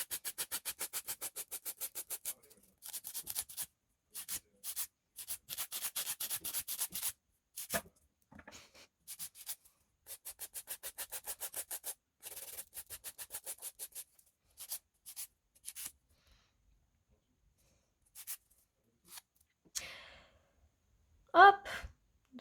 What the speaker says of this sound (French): je crois que ce limage là, comme ça, comme ça, comme ça, et après comme ça, je crois que ça s'appelle un limage diamant